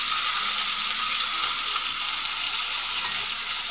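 Tomato frying in a pan for a Malvani-style clam curry, a continuous bright sizzle and crackle with a couple of small utensil ticks, close and alone without talk.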